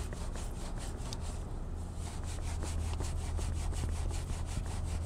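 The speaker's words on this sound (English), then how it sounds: "So just by me rubbing the barrel of the wheel, I am removing tons of brake dust that is living back there" A Chemical Guys Rimpaca brush scrubs back and forth inside the barrel of a car wheel, a steady rhythmic rubbing and swishing, close and fairly quiet with no speech.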